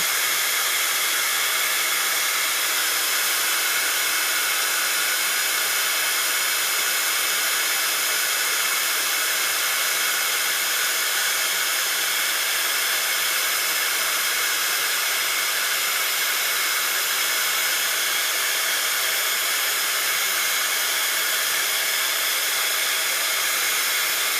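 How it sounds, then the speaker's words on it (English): A heat gun blows hot air to melt embossing powder on patterned paper, giving a loud, steady, close-up hiss and whoosh that holds unchanged throughout with no talking. "I'm just going to put my embossing powder through the heat gun."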